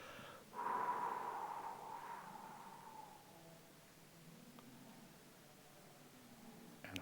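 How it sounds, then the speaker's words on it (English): A slow, breathy exhale during a guided meditation, soft and close, fading gradually over a few seconds into quiet room hiss. "and then exhale"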